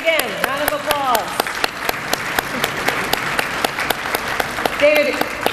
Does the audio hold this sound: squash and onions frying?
no